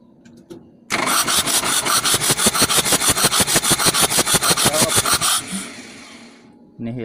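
A diesel engine that will not start is cranked by its starter for about four seconds, a loud, close, rapid rhythmic churning with even pulses that stops without the engine catching.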